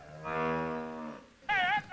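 Cattle at a team penning event moo nearby, a long low drawn-out moo followed by a shorter, higher, wavering call, loud and clear with no talk.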